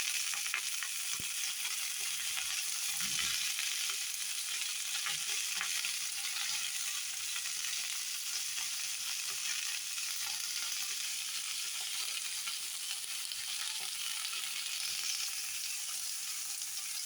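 Cut beans and potatoes frying in a pan with salt and turmeric, giving a steady, fairly quiet hiss of sizzling that runs on evenly, with a few soft low knocks and no talk.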